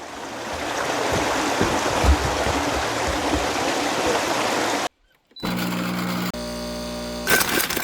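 A creek beside a small off-grid cabin and bridge in Montana, with steady broadband water rushing close by for several seconds before a brief cutout and a change to other sounds.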